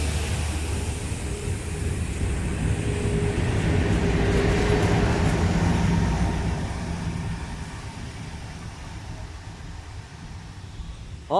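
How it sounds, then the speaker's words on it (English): A railhead treatment train cleaning the rails, pulled by two locomotives, rumbles past at close range, a steady broad roar with rolling wheel noise that gradually fades as it moves away. "Hey, it's a railhead treatment train."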